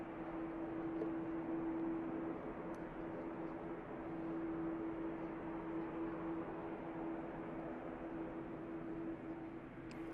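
Airbus A330 airliner engines roar steadily at an airport, a sustained broadband rumble with a droning tone, constant in loudness throughout and fairly distant, with no talking.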